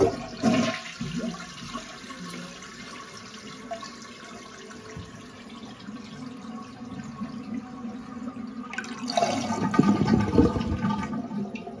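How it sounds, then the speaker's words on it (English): A household toilet is flushed with its water supply shut off, draining the tank without refilling. A loud rushing flush opens the clip, then a quieter gurgling drain, and a second strong surge of water arrives near the end. "I'm going to flush the toilet to drain as much water as possible from the tank."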